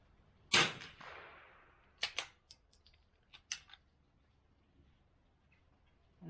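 An Anschutz 64MPR .22lr rifle fires one shot with Lapua Center X ammunition, a sharp close crack with a short trailing echo, followed by a few small clicks and taps from handling.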